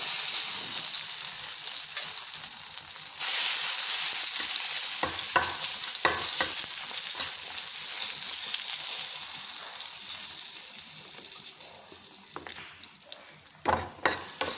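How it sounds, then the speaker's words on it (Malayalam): Dried red chillies fry in coconut oil with a continuous close sizzle, broken by occasional stirring scrapes and clatters. Nobody speaks. "ഇനി നമുക്ക് ഇതിനകത്തേക്ക് ഈ വറ്റൽമുളക് ഇട്ട് കൊടുക്കാം."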